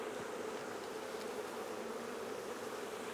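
Close, steady humming drone of many honey bees crowding a queen-rearing frame, continuous and even throughout with no voices.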